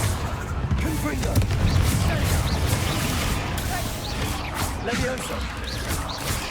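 Confringo blasting-curse explosions in the Hogwarts Legacy video game, a dense run of booming blasts and crashes layered over constant battle noise, with a voice shouting spell names throughout.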